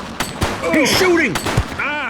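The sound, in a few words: gunfire from a shooter in the video game The Precinct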